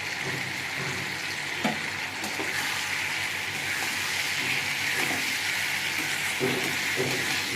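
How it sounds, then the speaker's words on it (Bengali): Tomatoes and green chillies sizzle in hot oil for chicken chorchori, a continuous close frying hiss with a few soft stirring scrapes along the way. "এবার আমি টমেটো দেবো, টমেটো আর কাঁচা লঙ্কা দিয়ে দেবো।"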